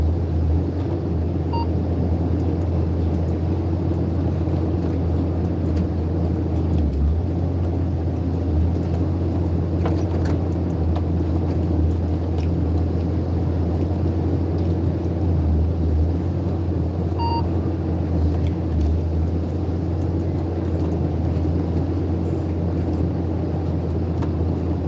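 A forestry harvester working in the woods runs with a steady, heavy engine drone and low rumble, with faint clanks and hydraulic whines heard from inside the cab over the continuous machine noise.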